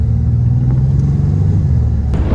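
A Renault Talisman's engine in sport mode while driving on mountain roads, a loud, steady low rumble heard from inside the car with no talk over it.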